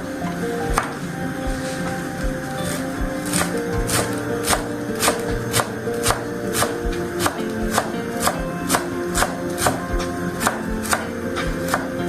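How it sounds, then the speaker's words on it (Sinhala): Parsley being finely chopped with a knife on a board for celery cream soup, a steady run of crisp, evenly spaced blade taps, close and distinct, over faint background hum. "මම ගත්ත පාස්ලි මේක දැන් සාමාන්‍යයෙන් පොඩියට කපා ගමු"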